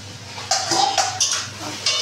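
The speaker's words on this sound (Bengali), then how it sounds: "দেখো এবারে ঢাকাটা খুলে দেখে এটা কেমন হলো।" A metal lid comes off a pot of cooked Bengal arum leaf paste, giving a few close clinks and scrapes of metal on metal with short rattles, loud and clear, with no talk.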